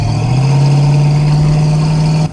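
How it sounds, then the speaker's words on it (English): A restored 1966 Ford Mustang with a 289 V8 and automatic transmission runs with a steady, close, deep engine drone. The pitch rises slightly at the start, then holds even until it cuts off abruptly near the end. "Motor has great power for being a little stock, little 289"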